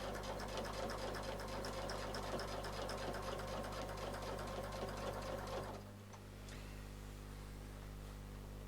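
A sewing machine stitches a quilt around a circle template in a fast, steady mechanical run for several seconds, then stops abruptly, leaving a low hum behind.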